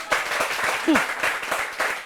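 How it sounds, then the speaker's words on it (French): Audience applause at a comedy show, steady dense clapping from a crowd throughout, with a brief voice cutting through in the middle. "Applaudissez pour vous-même."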